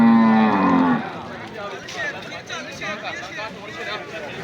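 A water buffalo lets out one loud, deep moo close by at a crowded livestock market in Kharian, followed by a busy hubbub of voices and animal noise.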